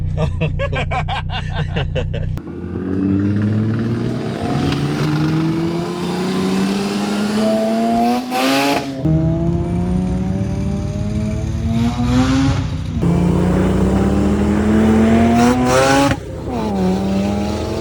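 Mazda RX-8 Turbo fitted with a TOMEI full titanium exhaust revs hard, its rotary note climbing steadily in pitch through long pulls. A brief drop separates each rise, loud and close throughout.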